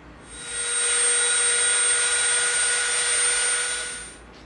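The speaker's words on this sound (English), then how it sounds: "we are going to round off the edges with the Dremel." A Dremel rotary tool rounding off the edges of EVA foam, giving a loud, steady high-pitched whine that spins up, holds for several seconds close by, then winds down.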